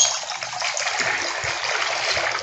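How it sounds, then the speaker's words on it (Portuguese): Water pours into an owl-shaped decorative fountain, a steady close broadband splash and trickle that holds constant for the whole stretch. "Vou botar mais água, né?"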